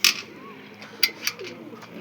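Pale, egret-like pigeons give a few soft, low coos amid a couple of brief sharp chirps, fairly close and fairly quiet.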